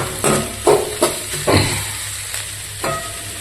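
Onions sautéing in a pan for chicken gravy: a soft frying hiss broken by several sharp spatula scrapes and clacks in the first half, then a quieter sizzle, heard up close with no talk.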